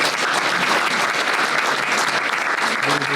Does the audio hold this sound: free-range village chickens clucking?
no